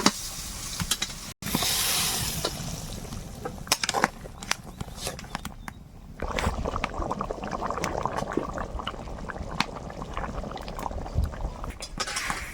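Rohu fish and fried raw mango simmering in boiling water in a pan, giving a steady bubbling sizzle with a few sharp clinks, constant and close throughout.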